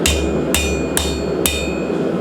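Four evenly spaced, loud, ringing hammer blows drive a square punch into round steel stock at a blacksmith's anvil, each strike sharp and metallic with a short ring-out, and no talking.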